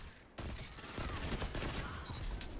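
A Thin Line hand cannon in Destiny fires in a rapid, dense burst of crackling shots against busy game noise, after a brief quieter moment at the start.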